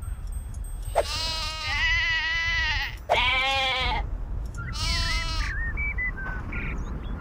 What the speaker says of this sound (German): Ja, ein Schaf haben wir doch schon mal.